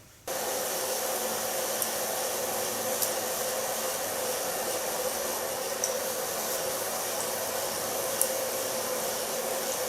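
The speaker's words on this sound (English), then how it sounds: "Gonna blow dry it with a medium large brush" A hair dryer blow-drying a pixie bob cut through a medium-large round brush, a steady continuous whoosh that holds level and close from start to finish, with no talking.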